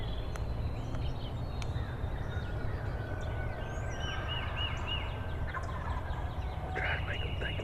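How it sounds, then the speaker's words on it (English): Wild turkeys gobble in the distance outdoors during a hunt: several faint, rattling calls come from different directions over a steady low rumble, with soft whispering close by. "It's like gobble over here to the right, 3 gobbles over here, 2 back here, 1 way around the corner."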